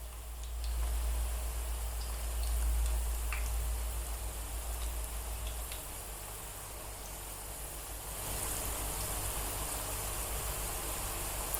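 Slices of bitter gourd fry in hot oil over a medium flame, giving a steady soft hiss and crackle that stays low and continuous throughout.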